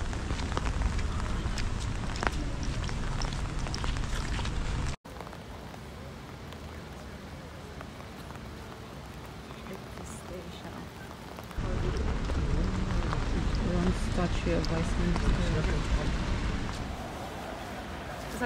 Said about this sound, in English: It's a beautiful rainy Wednesday.